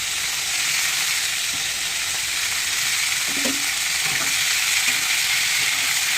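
Vegetables, green beans and potatoes, fry in a pan with a steady, close hiss of sizzling oil that runs unbroken throughout, with a few faint stirring clinks partway through and no talking.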